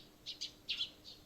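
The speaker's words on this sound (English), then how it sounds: "You hear the tweeting of small birds outside the window." Small birds chirp outside a window in the game Steins;Gate, a few brief, faint high tweets in quick pairs over a quiet background.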